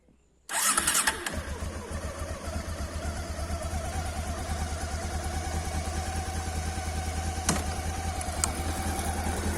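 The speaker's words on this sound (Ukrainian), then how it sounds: "Зараз заведемо мотоцикла." After a moment of quiet, a motorcycle engine cranks and catches, then settles into a steady, chugging idle nearby.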